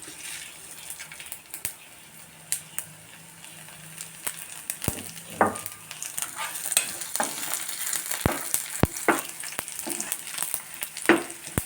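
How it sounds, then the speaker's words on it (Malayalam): Mustard seeds crackle and pop in hot oil as garlic fries for a tomato dal tempering, a steady close sizzle broken by sharp, irregular spluttering bursts that grow busier toward the end. "കടുക് പൊട്ടി വരുന്നുണ്ട്, വെളുത്തുള്ളി നമ്മുടെ മൂത്ത് വരുന്നുണ്ട്"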